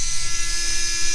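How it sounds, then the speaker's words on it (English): A small power drill boring a tiny pilot hole in plastic for a rear window Molle panel on a Hummer H3, giving a steady high whine with a constant pitch that runs on without a break. "I'm going to drill a tiny pilot hole, see how that goes"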